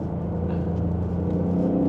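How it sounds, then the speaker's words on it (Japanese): Lexus LBX Morizo RR high-power engine holding a steady, close rumbling drone while driving, with slight swells but no sharp blips, and no voices. "ブリッピングしてる。"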